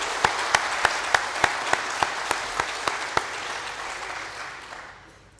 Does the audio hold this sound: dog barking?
no